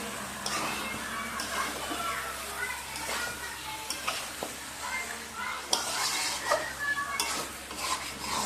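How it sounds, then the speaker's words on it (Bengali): Chicken pieces are stirred with a spice masala in a hot oiled pan, a spoon scraping and clinking against the metal over a continuous sizzle, with a faint voice in the background at moments. "মাংসটা দিয়ে ভালো করে নেড়ে নেব।"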